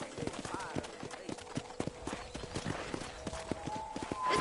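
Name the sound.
horse hooves clip-clopping at a corral in a video game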